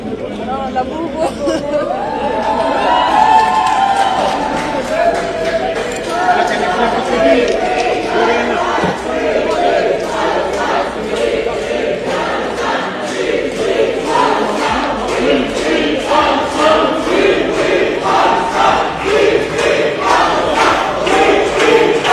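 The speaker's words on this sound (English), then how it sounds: "a crowd of pro-Palestine activists cheering and shouting, "Free, free Palestine," in support" A large crowd of pro-Palestine activists cheers and chants in a steady, dense roar, a continuous mass of voices and shouting that holds loud throughout without a break.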